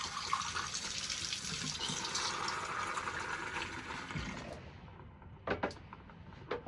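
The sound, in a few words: hot water from espresso machine warming cup and portafilter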